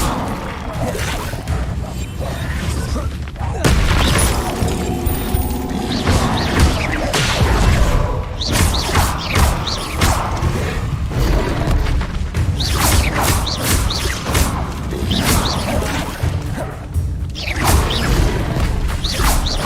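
Magic spells, Confringo and Incendio, cast in Hogwarts Legacy: steady fiery bursts, crashes and whooshes in quick succession. The dense, loud combat effects run on with little pause throughout.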